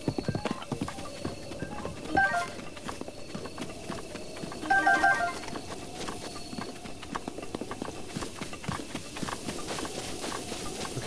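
Horse hooves clip-clop steadily in Zelda: Breath of the Wild, a continuous rhythmic patter of steps with a couple of brief chime-like game tones over it.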